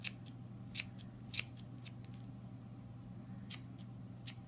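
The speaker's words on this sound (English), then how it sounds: "I just take my scissors and go in that little loop right there and just cut it" Scissors snip through the yarn ends of a crochet triangle scarf, five sharp separate cuts spaced across a quiet steady background hum.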